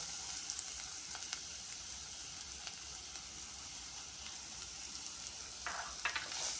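Meat and grated coconut fry together in a pan for a meat puttu filling, giving a steady, close sizzle with occasional stirring scrapes and no talk.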